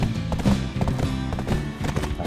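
Horses' hooves clip-clop at a brisk, steady rhythm close by in the video game Black Desert Online, a continuous gait of dense, repeated hoof strikes with a faint whinny.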